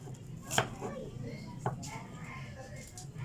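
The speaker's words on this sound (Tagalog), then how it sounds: "Naghihiwa na. Sibuyas." A knife chops onion on a board, with a couple of sharp isolated strikes against steady background murmur and low room noise.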